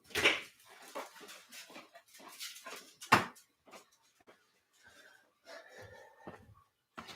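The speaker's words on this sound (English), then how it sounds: "She's probably going to bark at the door again to go back out." A pet dog whimpers and whines indoors by a door, waiting to be let back outside; several soft, high whines come in short bursts among faint shuffling and a couple of sharp knocks, with long quiet gaps between.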